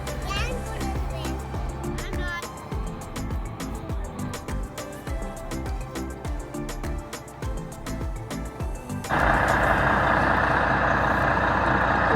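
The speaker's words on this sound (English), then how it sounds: "They're just waiting for the bus to pull out" A large bus idles and rumbles close by with repeated clicks and knocks, then a loud hiss of air brakes releasing as it begins to pull out, with speech and children's voices mixed in.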